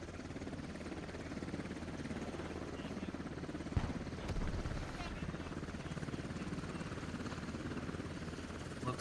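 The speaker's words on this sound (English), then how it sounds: "it looks like he finally burned out of the helicopter" Helicopter rotor thumping in the video game Squad during a tense scrimmage, a steady, fairly faint chopping drone held throughout with a brief thud midway, no speech over it.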